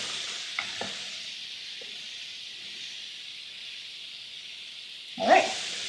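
Penne pasta stirred in a pot of boiling water: a quiet steady hiss of bubbling with a few faint knocks, then a short louder swish and clatter near the end, with no talking.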